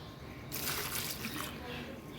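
Liquid plant food for a hibiscus is poured for about a second, a soft bright splashing trickle rising over quiet room tone and then fading away.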